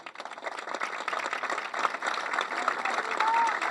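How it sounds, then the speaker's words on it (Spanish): An audience applauds for María Dolores Álvarez, a swelling wash of clapping that builds in loudness, with crowd voices and cheering mixed in. "para quien no es necesario pedir un aplauso"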